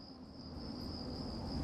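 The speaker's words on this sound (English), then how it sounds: "literally hearing crickets" Steady high cricket chirping drones through the whole clip at a constant pitch, joined by low ambient rumble that swells slightly toward the end, with no voices.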